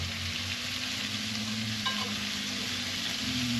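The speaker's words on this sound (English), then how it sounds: "Flip the shrimp again." Shrimp sizzle steadily in a pan on a Camp Chef Deluxe camp stove, with a constant frying hiss and a low burner hum underneath, and no talking.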